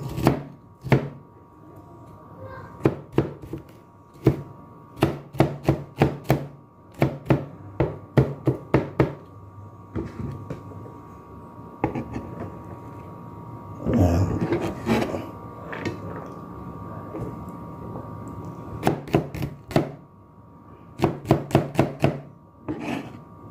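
A knife chops garlic on a cutting board, close and loud, in fast bursts of sharp strikes with short pauses between them, and a louder stretch of chopping midway through, with no talk.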